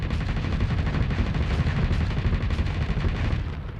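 Starsector space-combat ship weapons fire rapidly with an accelerated ammo feeder engaged, a dense, loud, continuous machine-gun-like barrage of overlapping shots and impacts lasting throughout, with no voices.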